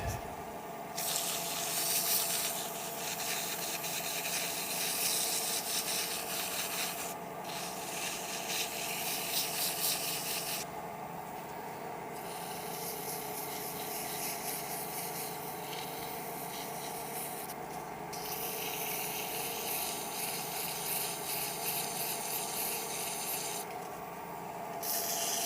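Hand sanding a wooden deer grunt call on the lathe with 100 grit sandpaper, a continuous close rasping hiss over a steady motor hum, with brief dips as the paper lifts away.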